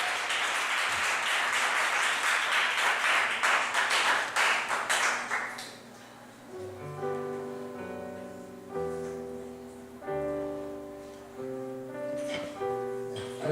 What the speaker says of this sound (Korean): 여러분 크게 박수로 맞아주세요.